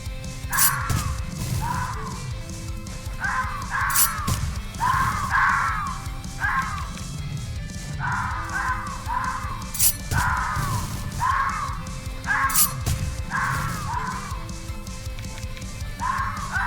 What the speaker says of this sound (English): That demon screaming noise is